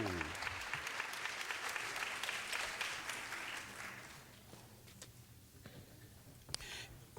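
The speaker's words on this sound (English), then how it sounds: "big round of applause, ladies and gentlemen, for Sonia Nelson Stowe." Audience applause rings out at a senior women's pageant in Missouri, a full, even clapping from a large crowd that gradually fades to scattered claps and faint crowd noise.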